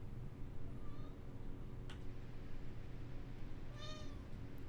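A cat meows twice, a short call early on and a longer drawn-out meow near the end, both fairly close over a low, steady background hum.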